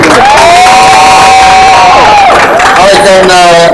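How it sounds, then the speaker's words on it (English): A crowd at a women's conference gala bursts into loud applause and cheering, with voices whooping and shouting over a continuous wash of clapping close by. "A warm round of applause,"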